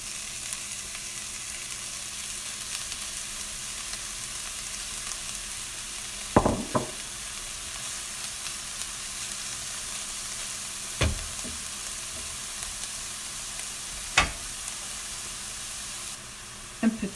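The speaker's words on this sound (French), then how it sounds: "غادي ندير البصل. je vais mettre les oignons." Onions fry in olive oil with a steady, close, dense sizzle that carries on throughout. A few sharp knocks of stirring break in now and then, and no one speaks.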